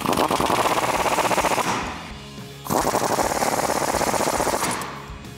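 A socket tool with a 16mm swivel socket and extension tightens shock bolts on a Jeep Wrangler JK during a Teraflex suspension install, making loud, rapid hammering rattles in two long bursts separated by a short pause.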